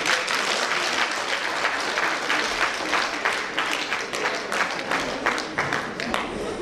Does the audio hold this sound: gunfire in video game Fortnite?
no